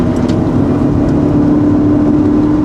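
Steady, loud engine drone from inside a Proton Satria Neo CPS held near 4,000 RPM while turning into a tight hairpin on a test drive, a constant hum with no breaks.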